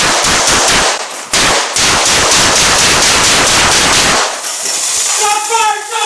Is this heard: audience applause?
no